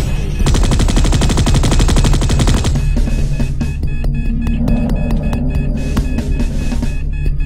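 Automatic sentry gun in the sci-fi shooter Space Beast Terror Fright fires at swarming aliens in loud, dense rapid bursts, an intense volley for the first few seconds, then sparser shots over a steady humming din.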